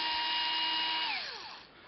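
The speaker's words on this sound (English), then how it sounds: "now I can use my power drill to remove" Power drill backing screws out of a Ryobi P102 battery pack casing: a steady close whine that holds level, then winds down with falling pitch as the motor slows near the end, no talk.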